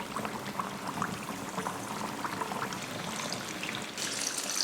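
Pieces of paneer frying together in hot oil on a stove, a steady close crackle and hiss with a brighter burst of sizzle near the end; no voices.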